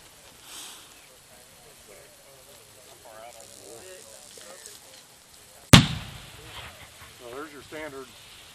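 A 3-inch firework shell bursts once with a sharp, loud bang, followed by crackling and fading echoes, with people talking before and after.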